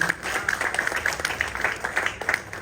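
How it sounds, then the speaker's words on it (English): Applause for a design and technology teacher at a Meadow Hall College teachers' talk show, steady moderate clapping from a seated audience, uneven and fairly close, running throughout without a break. "a round of applause for him again"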